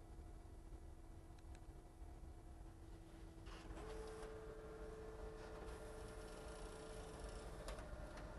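An Okidata printer whirs and clicks as a sheet of transfer paper feeds through, a steady mechanical hum rising midway with a faint high whine, close and continuous.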